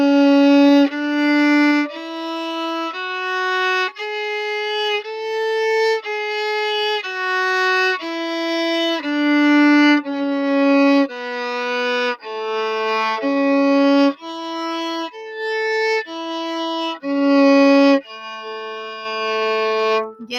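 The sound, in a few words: violin playing a string warm-up scale from low A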